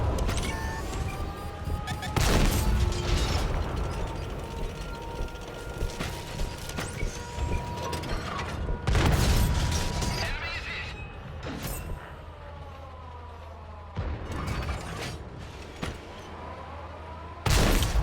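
Tank cannon fire in the console version of World of Tanks, playing a Type 80, comes as several loud booming shots with reload clanks and mechanical creaks between them, alongside game engine rumble.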